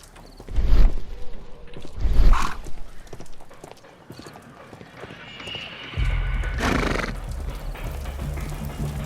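In the Sherlock Holmes The Devil's Daughter video game, a startled horse neighs and whinnies loudly after an explosion, with hoof clatter and stamping around two sharp bursts and a rumbling swell later.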